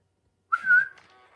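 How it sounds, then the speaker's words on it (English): Someone whistles a single rising then steady note to wake a Tiger Electronics FurReal Friends robotic pet, a clear, close whistle lasting about half a second and trailing off, with no talking. "we should be able to wake him up with a whistle"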